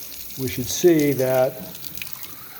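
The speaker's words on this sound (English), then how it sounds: "if I can get this balanced so that the tap water is going into that main hole," Tap water runs into the main hole of a Ski-Doo 850 E-TEC snowmobile thermostat during a bench test, a steady close trickle with a person talking briefly over it.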